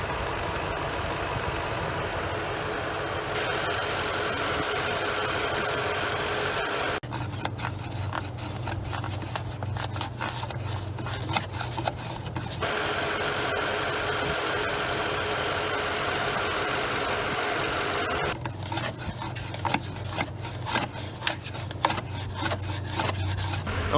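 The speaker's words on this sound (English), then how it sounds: "you'll be able to hear the squeaks that it was doing there" A Toyota Tundra engine idles with a failing, squeaking fan clutch. A steady running drone is broken by two stretches of harsh, raspy squealing and chirping, with sharp ticks near the end.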